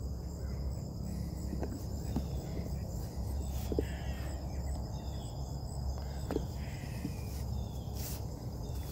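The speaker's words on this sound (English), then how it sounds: "There's some crows squabbling over here." Crows squabbling outdoors during a garden walk, harsh caws scattered over a steady chorus of insects and crickets, moderately distant with a constant background hum.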